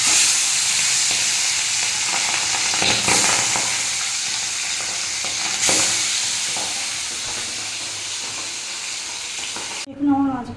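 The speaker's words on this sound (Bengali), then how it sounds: "এবার মাছগুলো ভাজবো" Pabda fish coated in salt, turmeric and raw mustard oil fry in hot mustard oil in a kadai, a loud, dense, continuous sizzle with occasional stirring bursts, ending abruptly.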